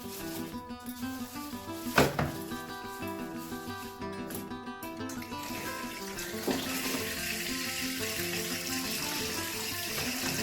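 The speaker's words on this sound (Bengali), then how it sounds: "মটনটা এখন ধুয়ে বেছে পরিষ্কার করে নেব।" Mutton is washed under running water in a sink, a steady tap stream with splashing and handling knocks, including a sharp clatter early on.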